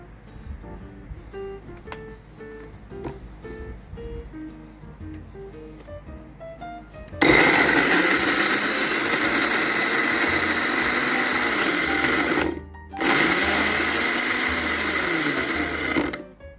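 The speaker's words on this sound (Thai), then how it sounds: "ปั่นพริกแดงจินดาพริกขี้หนูสวนพริกแห้งกระเทียม" A countertop blender grinds red chilies, bird's eye chilies, dried chilies and garlic, starting with a loud steady whirring roar after a quiet stretch of faint ticks, pausing briefly, then resuming before stopping.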